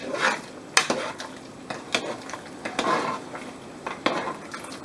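Menudo, a Filipino stew, is stirred in a pot with a utensil, giving a series of soft scraping sweeps and light metallic clinks against the pot over a faint simmer, close and without talk.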